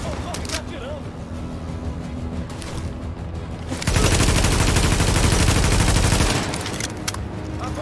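Sustained automatic gunfire from Tom Clancy's The Division video game, a dense loud burst of rapid shots lasting a couple of seconds mid-clip, set among quieter game ambience and shooting before and after.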